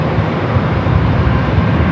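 Copa Airlines airliner rolling down runway 24 left at LAX, bound for Panama City: a steady, loud, broadband roar with no breaks, heavy in the lows, like jet engines at takeoff power.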